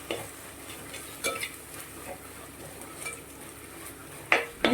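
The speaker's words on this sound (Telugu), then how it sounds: "జీడిపప్పు కొద్దిగా వేగిన తర్వాత ఇందులో 2 పెద్ద టీ స్పూన్లు అల్లం వెల్లుల్లి పేస్ట్ వేసి సన్నని వంట మీద బాగా కమ్మటి వాసన వచ్చే వరకు వేపుకోవాలి" Ginger garlic paste frying with cashews in a pot for jackfruit biryani sounds as a soft low sizzle under repeated stirring, with a few sharp scrapes and clinks of a spoon against the pot.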